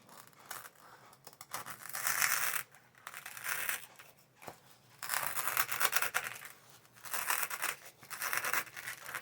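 A sharp knife slicing through a styrofoam ball, heard as close, squeaky scraping and crunching strokes in several separate bursts with quiet gaps between, no talk.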